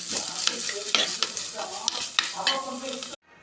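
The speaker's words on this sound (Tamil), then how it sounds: "கேரட் லைட்டாக வதக்கி விட்டுக்கலாங்க" Carrots sautéing in a pan for carrot rasam, sizzling under repeated scraping and stirring strokes from a spoon, close up, ending abruptly in silence.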